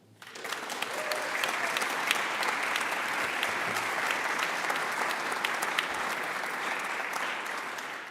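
An audience at a university talk breaks into sustained applause welcoming a speaker, the clapping swelling quickly from quiet and holding dense and steady for several seconds.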